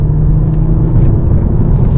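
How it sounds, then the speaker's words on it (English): A car engine droning loud and close in a steady low rumble as the driver blips the revs in a heel-and-toe downshift into third gear, with no speech. "rolling my foot over the accelerator, raising the revs for third gear"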